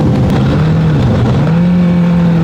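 A car exhaust rumbles loud and close as the engine revs, its pitch dipping and then rising again, with no voices.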